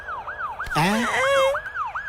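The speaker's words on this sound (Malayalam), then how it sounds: "ആംബുലൻസ് എത്തി" A wailing siren sweeps up and down repeatedly and close by, briefly overlapped by a louder burst of noise and a horn-like tone.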